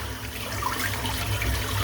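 A shaving brush is rinsed under a running tap, a steady close rush and splash of water flowing without pause, no voices.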